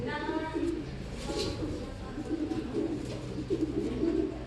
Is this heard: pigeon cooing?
yes